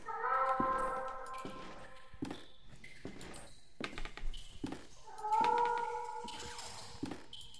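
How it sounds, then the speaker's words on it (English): A cat in a video game meows twice from behind a wall, drawn-out and moderately loud, with soft footsteps and taps in between. "The cat seems to be meowing from behind this wall."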